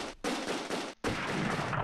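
Rapid gunfire crackles from a Close Combat II battle, dense bursts of shots as troops fire on fleeing reserves, filling most of the moment with two brief gaps.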